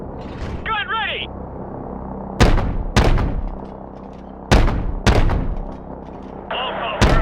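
In Call of Duty MW Remastered, an AC-130 gunship's heavy cannon fires five loud, booming shots at a slow, uneven pace, each one trailing off into a rumble, with radio chatter and voices between the blasts.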